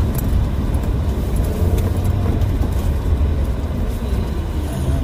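A vehicle engine labours loudly under a heavy load while a front wheel spins, making a dense, continuous rumbling roar with rattling over it, close by and with no talking.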